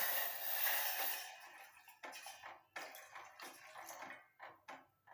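Water pours briefly into a pot on a lit stove with a hissing splash, then stops, followed by scattered light clinks and handling noises of kitchenware.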